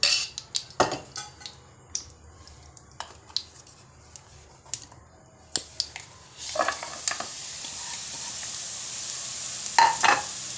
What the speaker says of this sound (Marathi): 1 चमचा तूप घालते मी, साजूक तूप.